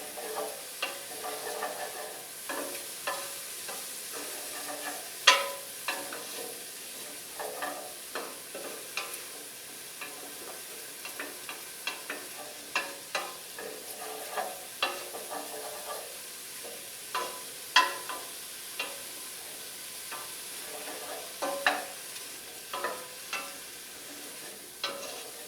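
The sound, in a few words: crushed red pepper and mushrooms roasting in pan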